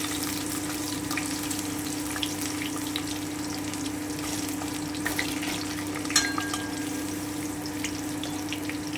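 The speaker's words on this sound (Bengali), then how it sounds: "আমার তেলটা কিন্তু গরম হয়ে গেল আবার আমি সেতো করে রসুনটা দিয়ে দিচ্ছি সামান্য একটু ভেজে নিচ্ছি" Garlic fries in hot oil in a pan for Bengali brinjal bhorta, giving a steady close sizzle over a low hum, with a brief clink near the end and no talking.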